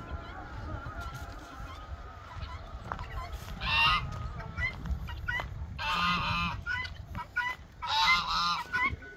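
Backyard geese honk loudly in repeated bursts, several calls overlapping close by, with quieter fowl sounds and low rustling between them.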